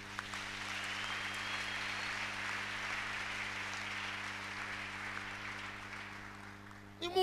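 A church congregation at a French-language sermon applauding together, a broad sustained clatter of many hands over a low steady hum, fading out near the end.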